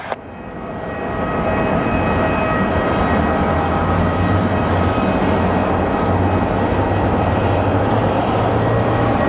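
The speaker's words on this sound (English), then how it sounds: "I think our Horizon Retro livery is leaving." A Horizon Air plane in retro livery departs Phoenix Sky Harbor, its engine roar building quickly to a steady, broad rumble that holds loud and continuous from start to finish.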